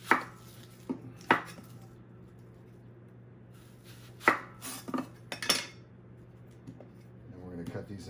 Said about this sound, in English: we're going to prep our onions. Cut off the ends here